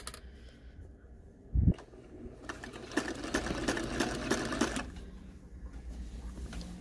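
A sewing machine stitches a centered zipper into a dress, its fast, even needle chatter running close and clear for a few seconds after a brief thump, then cutting off, with no talking.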